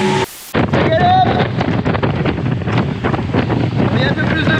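Strong wind gusts roar across the microphone aboard a racing sailboat at sea, the Route du Rhum entry Solidaires En Peloton, with loud steady buffeting and water rush throughout after a brief dropout near the start.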